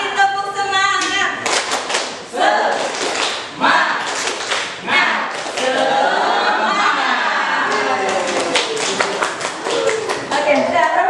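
Crowd at a school gathering repeats the patterned 'tepuk semangat' clap: loud, close bursts of many hands striking in rhythm, with group voices and chatter woven between the clap sequences.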